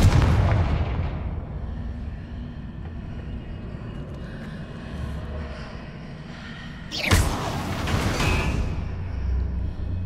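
A Confringo blasting spell goes off in Hogwarts Legacy, a sudden loud boom partway through that rises out of a steady rumbling game background and leaves a brief crackling tail.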